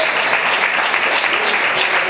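A church congregation applauding during a sermon, steady dense clapping that fills the room, loud and continuous, with no talk over it.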